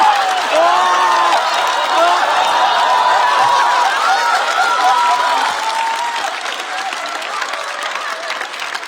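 Studio audience at a Chinese roast comedy show breaks into steady, dense applause mixed with a few cheers and voices, holding strong before easing slightly toward the end.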